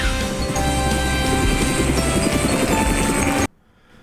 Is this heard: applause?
no